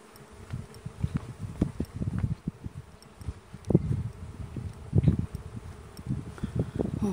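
A honeybee swarm flies around outdoors on a hot day, an irregular buzzing of many bees passing close and fading, with soft rustling behind.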